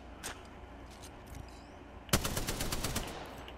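Video-game gunfire: a couple of faint isolated shots, then a loud rapid automatic burst of closely spaced shots lasting over a second, with no talk.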